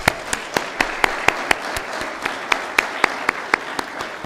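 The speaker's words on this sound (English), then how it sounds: "We'd like to give you a round of applause." A room of people claps for event sponsors at a community grant awards celebration, with one close, sharp, evenly spaced clapper standing out above a dense bed of audience applause.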